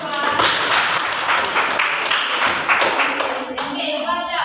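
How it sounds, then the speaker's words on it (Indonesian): A classroom of students claps for a presenting group during a microteaching lesson, dense rapid hand claps sustained throughout, fairly loud and close, with some voices mixed in. "tepuk tangan dulu untuk kelompok 2"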